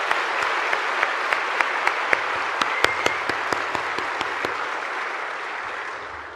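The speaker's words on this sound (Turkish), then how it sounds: "tüm gençlik kollarımızı alkışlıyorum." A crowd at a Turkish İYİ Party gathering applauds the party's youth branches with steady, loud clapping, punctuated by a series of sharp, regularly spaced louder claps or bangs, and fading gradually near the end.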